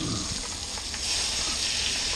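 A steak and salted onions fry in a pan. A loud, continuous sizzle plays up close with no talk, and the hiss swells slightly partway through.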